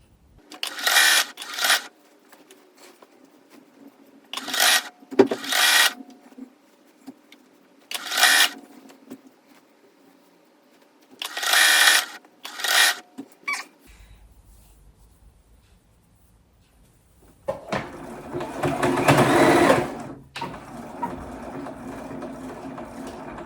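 A domestic sewing machine stitching the seams of a bomber jacket runs in several short, loud bursts separated by pauses. Near the end comes one longer whirring run, with faint handling noise between stitches.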